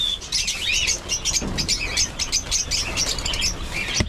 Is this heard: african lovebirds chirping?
yes